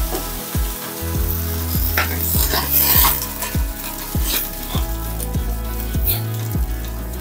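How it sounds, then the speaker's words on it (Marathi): Water splashed onto a hot oiled griddle, set for rice and beetroot ghavan, gives a loud sustained sizzle, with a regular series of dull thumps running under it. "आणि पाण्याचा हपका मारून तव्याचं टेम्परेचर मेंटेन करूया"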